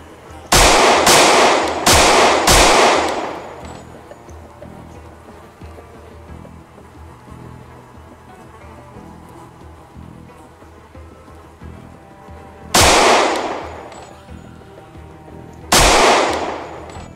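Loud bursts of automatic gunfire in a shooter video game set at a secret military base, a rapid cluster of four or five blasts at the start, then two more isolated bursts later over a quiet background.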